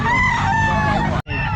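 Chickens at a pet market cluck and crow loudly and close by, with harmonic calls layered over each other before a sudden brief cutoff near the end.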